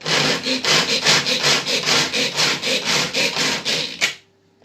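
A knife rocks quickly through walnuts on a board, coarsely chopping them in a steady run of about fifteen gritty, rasping strokes, close and loud, ending in silence.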